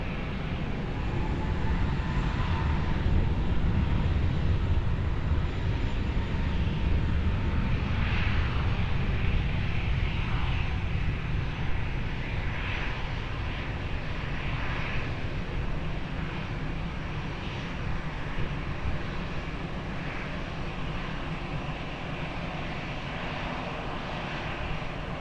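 An airliner at Lisbon Airport on runway 20 produces a loud sustained engine roar and rumble that swells early and then slowly fades across about twenty-five seconds, heard from a distance, with no talking.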